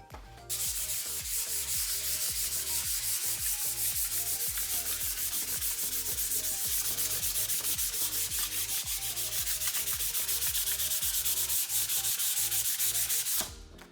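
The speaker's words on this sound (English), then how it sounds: "We may want to scrape or sand the back of this." Sanding the back of a drilled wooden board for an epoxy countertop, a steady, loud, continuous rough rubbing close by with fast rhythmic pulsing, no voices.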